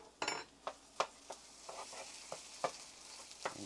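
Chopped garlic fries in a pan for hot dog chili sauce, a soft steady sizzle broken by several sharp scrapes and taps of a utensil stirring, close and moderately quiet.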